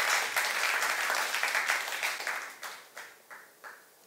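Church youth congregation applauding during a sermon, a dense wash of clapping that thins toward the end into a few separate, spaced claps.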